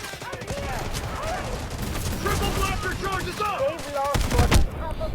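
Gunfire in the video game Delta Force, a 24-versus-24 shooter: repeated sharp shots and bursts, with a heavier cluster near the end, under steady talk from players.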